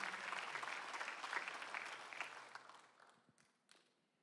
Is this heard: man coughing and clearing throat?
no